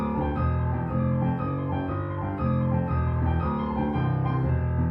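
Piano plays a blues right-hand lick over a rhythmic accompaniment, a steady flow of chords and notes, moderately loud and without any talking.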